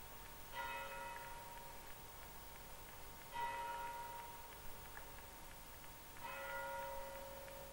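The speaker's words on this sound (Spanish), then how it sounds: "El sonar de las campanas" Church bells ring out in three separate bursts near a Pyrenees border railway station, clear tones with a metallic shimmer, sounding at a distance over a quiet background.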